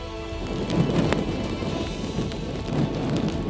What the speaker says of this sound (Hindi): अभी जो हवाओं की रफ्तार है वो उसी तरह से है, अभी जो बारिश है वो उसी तरह से हो रही है